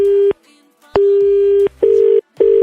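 A telephone line tone sounds during a radio prank call: a steady, loud single-pitch tone with short breaks, repeating in chunks of varying length, alone and without talk.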